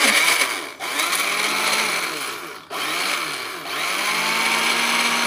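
A blender grinding bananas roars loudly and steadily, its motor pitch dipping twice as the load shifts, grinding continuously with no voices.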